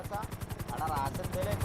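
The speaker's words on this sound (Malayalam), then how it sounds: "ഇത് ഭയങ്കര സ്ലോ ആണല്ലോ ഈ ഹെലികോപ്റ്റർ" Helicopter in a video game, a rapid rhythmic rotor chop thudding steadily and fairly close for under two seconds, with someone talking over it.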